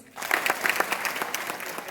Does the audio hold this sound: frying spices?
no